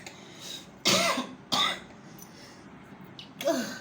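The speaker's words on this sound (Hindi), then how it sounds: "छींक भी आ गई, खांसी भी आ गई" Several close coughs and throat-clearing bursts from a person indoors, three or four sharp explosive bursts spread over a few seconds against a quiet background.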